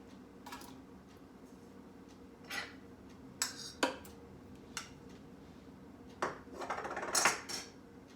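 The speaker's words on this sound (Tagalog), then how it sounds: "It's a square one, but I just chop into small pieces." A knife chops a square block of margarine into small pieces, giving a handful of irregular, light taps and clicks against a cutting surface, close but fairly faint.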